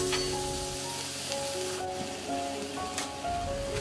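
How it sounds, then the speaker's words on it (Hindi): Ginger garlic paste sizzles in hot oil with fried onions in a pan and gets a quick stir, a continuous crackling hiss with scraping touches and a few sharp spatters. "अब मैं इसमें जिंजर गार्लिक पेस्ट ऐड कर दे रही हूँ और इसे जस्ट चला लूँगी एक बार"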